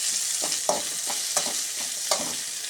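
Chopped garlic and green chilies frying in hot oil, a steady bright sizzle with a few soft stirring scrapes and small clicks from the pan, heard close and alone.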